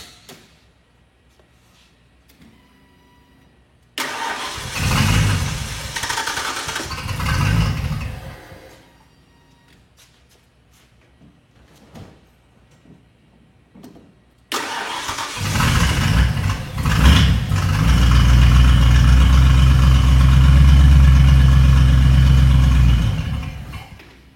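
Car engine being started and run with almost no exhaust and the ignition timing badly retarded from distributor fiddling; a short cranking burst, a pause with small clanks, then the engine catches and holds a loud, steady, rough idle.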